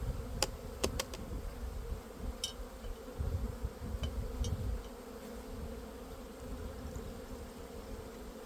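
Bees and wasps buzz inside a yellowjacket trap, a steady low drone with a few sharp clicks and brief flurries as insects move about. No one speaks.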